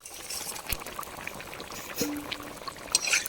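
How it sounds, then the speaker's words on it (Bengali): Water poured into a pan of frying fish curry base, a steady low pouring rush with a brief gurgle midway, close by and alone. "এখন জল দিয়ে দেবো।"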